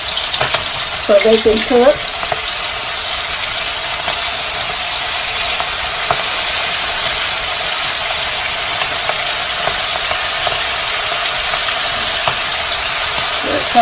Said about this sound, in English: we're gonna drop them in the oil